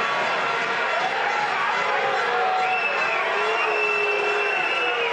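Dense, steady crowd noise fills a handball arena during a timeout in the 2011 EHF Cup final between TV Großwallstadt and Frisch Auf Göppingen, a continuous roar with whistles and shouts rising above it throughout.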